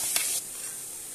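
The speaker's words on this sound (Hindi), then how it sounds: "हम डाल देंगे इसमें मटर। पहले थोड़ा सा हम मटर को भूनेंगे।" Peas hit a hot oiled kadhai on a gas stove, giving a bright steady hiss of frying with a brief louder burst at the start that settles into a quieter, even sizzle.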